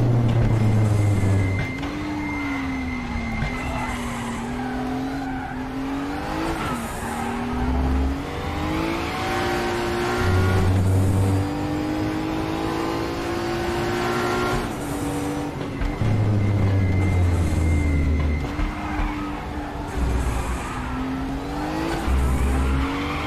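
A Kremer Porsche race car in an e-racing video game drones steadily, its engine note rising through the gears and dropping on each shift, with tire squeal in places and music underneath.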